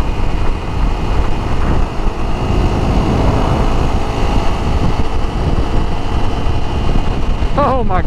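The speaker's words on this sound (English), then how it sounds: "But this bike is not bad cruising through the highway." Honda CRF 250L motorcycle cruising on a highway, a steady loud engine drone mixed with heavy wind rush throughout, with a brief higher whine near the end.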